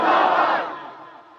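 A crowd at an Islamic religious gathering roars back a loud chant in response, a dense burst of many voices that swells briefly and then fades away.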